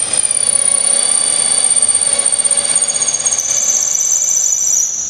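A Flipkart SmartBuy cordless drill runs continuously in its second speed gear, a loud, close, steady high-pitched motor whine that shifts pitch slightly partway through before winding down.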